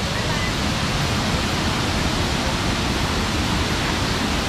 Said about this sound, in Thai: นี่มันม่านน้ำตกนะครับ